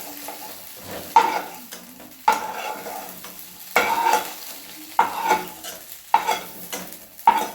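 Potatoes frying in oil in a pan, a steady sizzle broken by about six sharp scrapes of a spatula stirring at regular intervals, close and clear, with no talking.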